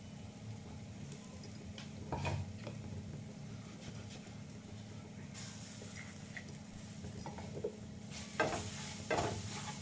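A spice mixture for matar kachori stirred in a pan, with a steady low sizzle throughout and occasional spoon scrapes and taps rising over it, close and moderately quiet.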